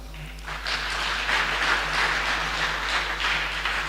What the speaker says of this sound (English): Please clap for them.